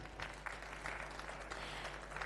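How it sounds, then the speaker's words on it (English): An audience at a rice industry technical session claps in a soft, steady patter that holds for the whole moment, distant and fairly quiet. "Can we have a round of applause, everybody?"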